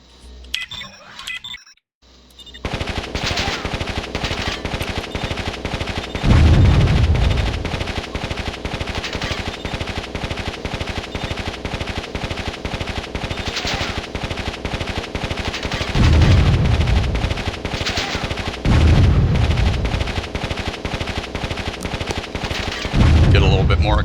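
Chain gun fire in the real-time strategy game Warzone 2100 rattles as a continuous rapid stream of shots, loud and unbroken, with periodic heavier bursts of impacts.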